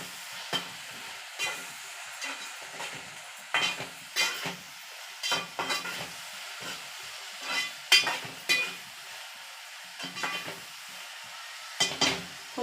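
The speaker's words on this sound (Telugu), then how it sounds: "మళ్ళీ ఉల్లిపాయ మగ్గిందో లేదో చూద్దాం." Onions cooking in a pan for coconut rice, a spoon scraping and stirring in irregular clinks and scrapes over a faint, steady sizzle, close and fairly quiet, with no voices.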